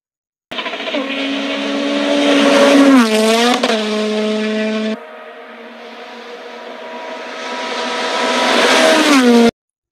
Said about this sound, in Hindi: Race car means race car.